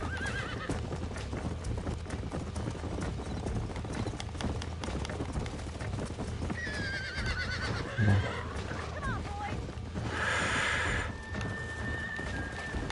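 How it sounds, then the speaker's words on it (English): Horses in the Red Dead Redemption video game: dense galloping hoofbeats run throughout, with a couple of shrill neighs rising above them and a faint voice talking underneath. "These are fine horses."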